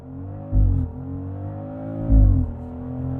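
A 2025 BMW X3 M50 SUV engine revs hard twice in quick bursts during a launch-control start, deep and loud, settling back to a steady idle hum between surges.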